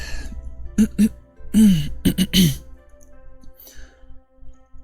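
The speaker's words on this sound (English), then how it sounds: "I'm clearing my throat" Someone clears their throat several times in short, raspy bursts, close to the microphone, with quiet background hum between them.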